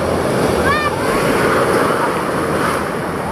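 Loud, continuous roar of strong ocean waves crashing nearby during a fishing trip, mixed with wind buffeting the microphone and a brief voice in the background.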